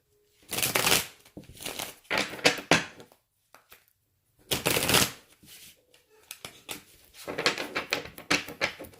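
Tarot cards are shuffled in several separate bursts of crisp riffling and slapping, with short quiet pauses between them, close by.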